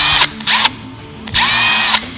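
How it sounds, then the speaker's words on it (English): A power drill spinning a cleaning brush for rifle cartridge reloading whirs in two separate bursts, each lasting under a second, with a short quiet gap between them. "I just take a drill"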